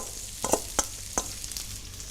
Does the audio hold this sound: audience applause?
no